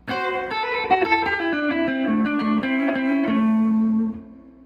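A blues electric guitar played through a Fender Tonemaster Deluxe Reverb amp rings out in a short melodic phrase of clean, sustained notes with a light reverb tail, ending in a held note that fades.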